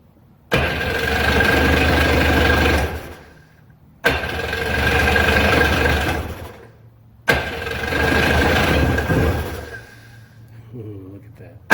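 A WaveRunner personal watercraft left sitting for 19 years cranks and catches three times, each start roaring loud for a few seconds, rattling a little, then dying away before the next attempt.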